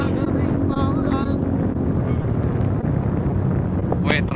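Cold wind buffets the microphone during a wet night motorcycle ride in rain and fog, a loud, constant roar of rushing air and engine drone with brief voice fragments over it.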